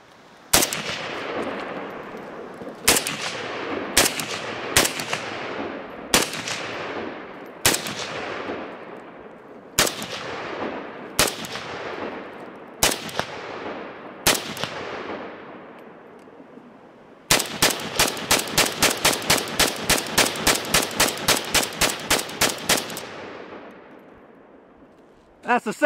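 Gunfire aimed at a cardboard target outdoors: a string of loud, sharp single shots at uneven intervals, followed by a rapid, steady burst of shots fired in quick succession.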